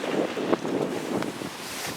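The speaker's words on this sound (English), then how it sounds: "Just the sound of the wind." Steady wind rushing past a single-handed sailboat on trials in a lower bay, a broad, even roar with soft gusty swells and faint water noise, no voices.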